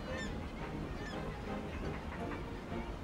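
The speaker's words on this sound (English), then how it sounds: "Herring gulls also use this cove to nest" Herring gulls call repeatedly at a nesting cove, harsh honking cries overlapping at a moderate distance over a constant outdoor background.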